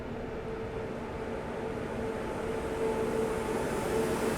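The New Delhi–Bhubaneswar Duronto Express rolling past on the rails, a loud continuous low rumble with a faint tonal hum, building slightly toward the end.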